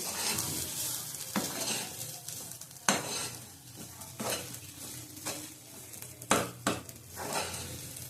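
Garlic and dried red chillies fry in a pan with a steady sizzle, while a utensil stirs and scrapes against the metal in several sharp clatters. No one speaks.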